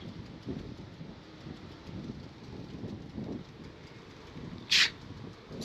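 Strong wind blows steadily outdoors at a scenic viewpoint in Chilas, making a continuous low buffeting rumble close to the microphone, with one brief high squeak near the end.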